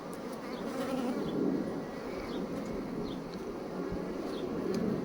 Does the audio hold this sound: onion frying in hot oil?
no